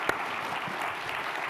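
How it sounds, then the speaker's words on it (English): Steady, dense audience applause closing a general conference session, a broad even wash of clapping from a large crowd with no talk over it. "I wanted to give you a huge applause"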